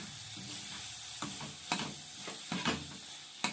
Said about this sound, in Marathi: कोथंबीर भाजीमध्ये मस्त मिक्स करून घ्यायची